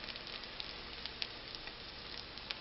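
Beyond Burger patties sizzle in a hot pan, giving a steady, soft hiss of frying with scattered small pops and crackles, close by and alone.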